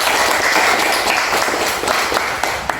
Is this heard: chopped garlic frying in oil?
no